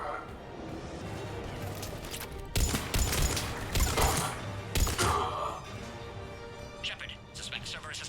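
Gunfire in the sci-fi shooter Mass Effect: Legendary Edition, loud bursts and crashing impacts clustered in the middle, mixed with game voices speaking over and between the shots.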